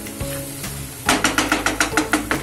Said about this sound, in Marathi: हा मसाला आपल्याला चांगला परतून घ्यायचा आहे